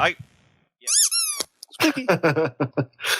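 A rising squeak from the video game Barpig sounds between bursts of a person talking, one bright chirp among excited speech.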